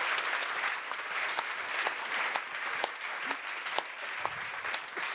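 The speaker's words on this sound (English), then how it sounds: "I would really welcome to launch us one more burst of that spontaneous applause" A burst of audience applause at a policy forum debate in Brussels, steady clapping from a sizable crowd with sharp individual claps standing out, heard alone at moderate volume.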